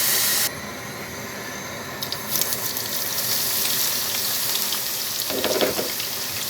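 A steady sizzle of eggplant frying in hot oil, rising into a louder hiss as more pieces hit the pan.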